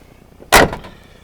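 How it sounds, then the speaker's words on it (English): A 1981 Chevrolet Blazer with a removable top has its car door shut once, a single loud, solid slam with a short rattling decay, heard alone against quiet surroundings. "Doors shut nice."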